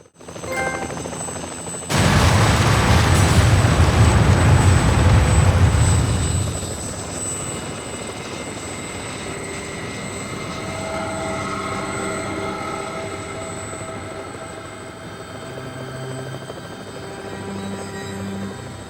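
Toy helicopter in the video game Resident Evil: Umbrella Chronicles, a loud, dense whirring rotor roar that surges in abruptly and holds for several seconds before dropping away under quieter game ambience and music.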